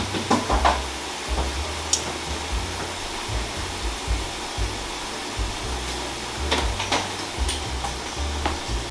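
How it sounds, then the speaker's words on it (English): A steady, even hiss of steam comes from soup dumplings cooking in a steamer, with a few faint clicks and no talking. "we're just gonna let this steam"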